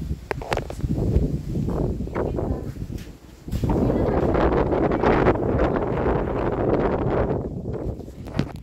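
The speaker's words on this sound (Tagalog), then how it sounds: "Sobrang lakas ng hangin. Ang lamig ng hangin." Strong wind buffets the microphone in heavy, roaring gusts, with a brief lull partway before it blasts steadily again.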